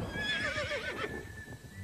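A horse whinnies once, a loud, close neigh with a shaky, wavering pitch that falls away, and a faint clip-clop of hooves follows beneath it.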